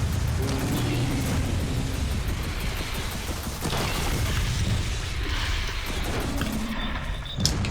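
Rockets firing and exploding in the video game Gears of War 4, a dense, continuous barrage of loud booms and blasts that fills the whole stretch without pause.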